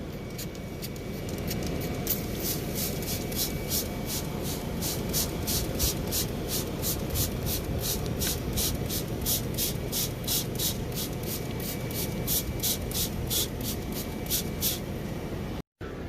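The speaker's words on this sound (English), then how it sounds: "We're going to go ahead and baste it with beef broth." Beef broth spritzed from a spray bottle onto a smoked chuck roast on a Cuisinart pellet grill, a rapid regular series of short hissing sprays over steady outdoor grill noise.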